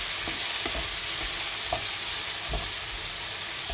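Onions sizzle steadily in a hot pan with salt added, with a few soft stirring scrapes and clicks scattered through the continuous frying hiss; no voices.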